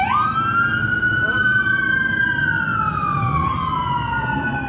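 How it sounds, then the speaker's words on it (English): A loud wailing police siren in the video game GTA sweeps up and holds a high pitch, then slowly slides down over a steady engine-like rumble, close and continuous. "his siren is so loud, bro."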